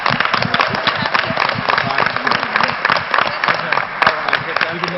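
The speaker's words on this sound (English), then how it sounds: "A big round of applause" An audience at a school trivia event, a 6th-grade quiz night, bursts into steady, dense clapping that fills the room evenly and holds throughout with no letup.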